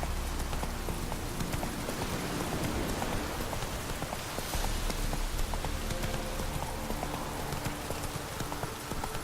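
Geralt's horse Roach trotting in The Witcher 3, hooves clip-clopping in a steady rhythm at a moderate distance, layered over a constant hiss of rain on the ground throughout.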